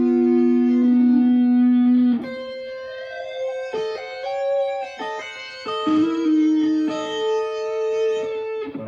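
A guitar-style tone passes through a pitch shifter driven by a controller pedal, the sustained note gliding upward to a tritone before continuing as layered, slightly distorted held notes, loud and close with no speech.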